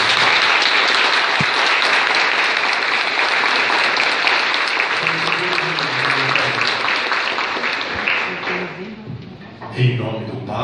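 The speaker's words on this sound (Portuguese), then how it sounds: "vamos acolhê-lo com uma grande salva de palmas" A church congregation gives a long, full round of applause to welcome a bishop, sustained clapping that tapers off near the end as voices and organ-like tones emerge.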